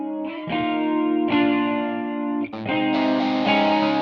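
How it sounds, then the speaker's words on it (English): Clean Stratocaster electric guitar chords ring out with a shimmering, wide stereo chorus effect, several strums sustaining smoothly with no voices. "Notice the stereo chorus clean strat."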